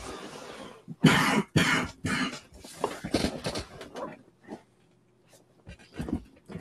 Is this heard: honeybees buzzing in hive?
no